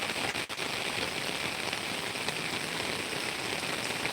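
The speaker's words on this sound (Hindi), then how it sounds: "अब बारिश होती है" Steady rain falls in a village, a dense, even patter on surfaces heard up close without a break and with no talking.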